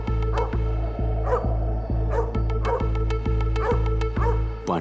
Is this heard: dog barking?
yes